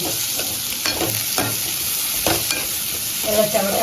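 Tomatoes and chillies sauté in a hot pan with a loud, even sizzle, broken by several sharp scrapes of a spatula stirring them.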